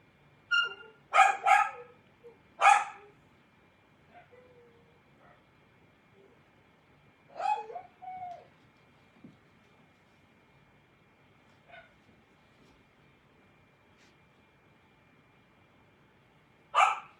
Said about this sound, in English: Sounds like maybe somebody got locked outside. One of the dogs, and they're not happy about it.